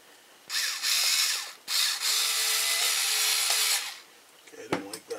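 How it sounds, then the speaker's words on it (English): A power drill drives screws into TLR 8ight-E 3.0 RC car parts in two long, loud whirring bursts, each ending with a brief ratcheting stop, followed by a few close plastic clicks and handling taps. "I'm going to get a drill, and we'll run these guys home on one side."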